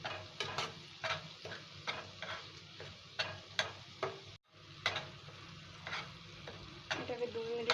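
Ginger paste sizzles in a pan under a soft frying hiss, while a spatula taps and scrapes the pan in a regular stirring rhythm. There is one brief drop-out partway through.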